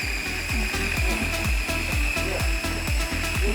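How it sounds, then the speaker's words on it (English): A kitchen blender runs on buffalo sauce, cauliflower and a third ingredient for a dip, its motor churning loud and close with a steady pulsing chop, about eight beats a second, and no talk. "Let's put our lid on and let's blend away."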